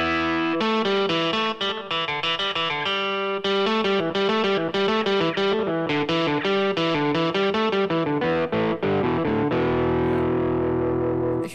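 A distorted electric guitar voice on a Yamaha Tyros 5 keyboard plays a fast, continuous riff of loud, gritty chords and notes that ends in a sustained ringing chord.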